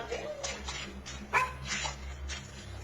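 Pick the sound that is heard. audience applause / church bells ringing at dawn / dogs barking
dogs barking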